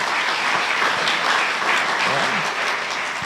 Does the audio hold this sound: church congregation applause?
yes